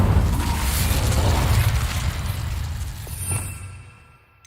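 A fire spell bursts in Hogwarts Legacy with a loud, rumbling whoosh and crackling blast that swells briefly, then fades out over a few seconds as a mechanical rattle trails off.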